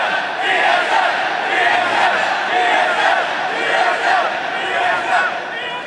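A large crowd at the League of Legends Season 4 World Championship roars and cheers continuously, a dense wall of voices that stays loud throughout.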